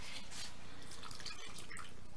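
Water poured into a bowl of Alsatian flammkuchen dough with salt and egg yolk, a faint, close trickle with light splashes and drips in a quiet kitchen, with no voices.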